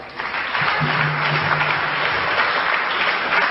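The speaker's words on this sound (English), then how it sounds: "Give these brothers a round of applause" Audience applause at a lecture on Egypt and the Moors in Europe, a dense continuous roar of many hands clapping, loud and sustained from start to finish, with a brief low voice murmuring early on.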